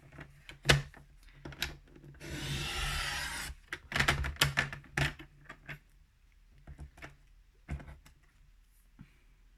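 A cheap Hobbycraft paper trimmer slices a thin slither of paper with a soft, rushing scrape of the blade lasting about a second, framed by sharp plastic clicks and handling knocks, all close and fairly quiet.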